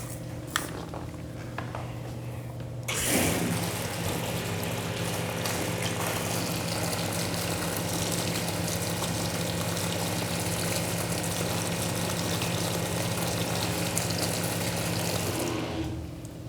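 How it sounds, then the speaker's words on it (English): A strong spray of water starts suddenly and rushes on loud and steady, a hose jet rinsing a car's surface, then cuts off near the end. "Spray on a wet surface, immediately rinse with water."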